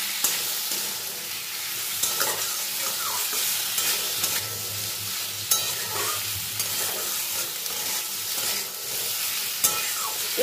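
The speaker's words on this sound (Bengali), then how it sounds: "এবার এর মধ্যে রান্নায় প্রয়োজনীয় নুন আর হলুদটা অ্যাড করে দেব। দিয়েও কিছুক্ষণ নাড়াচাড়া করব।" Salt and turmeric being stirred into koi fish and kochu potatoes frying in a pan: a steady, loud sizzle runs throughout, broken by repeated scraping stirs and occasional sharp clicks of the spatula.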